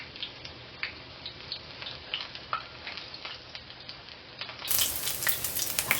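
Apple fritter batter frying in a shallow pan of oil, a steady soft sizzle with scattered small pops and crackles that grows brighter and louder near the end.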